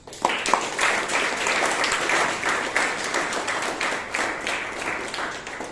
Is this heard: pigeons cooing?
no